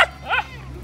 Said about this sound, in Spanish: Acá los perros y ladran.